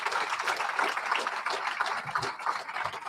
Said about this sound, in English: Can we give them all a gigantic round of applause?